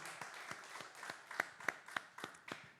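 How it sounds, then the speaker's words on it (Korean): Scattered hand claps from a church congregation during a Sunday service ring out in a loose, uneven rhythm, about a dozen distinct claps from a small group rather than a full crowd. "우리 하나님 앞에 영광의 박수 올려드립시다"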